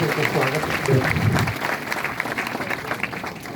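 Loud crowd applause at a religious discourse welcoming a swami, dense clapping under a voice at first, carrying on evenly and slightly softer toward the end.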